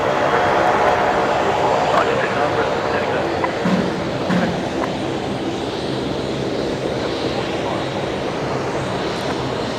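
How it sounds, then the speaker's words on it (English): A Jetstar flight 753 airliner takes off at Brisbane Airport, a broad steady engine roar holding loud and continuous throughout, with voices talking faintly beneath it. "takeoff, Jetstar 753"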